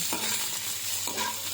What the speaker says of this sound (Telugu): పచ్చి వాసన పోయేంత వరకు లైట్గా వేయించుకున్నామండి.